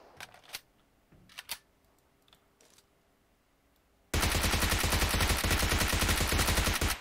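Gunfire in the PUBG Mobile video game, with a few scattered sharp shots at first and then a sudden loud, continuous burst of rapid fire that lasts about three seconds.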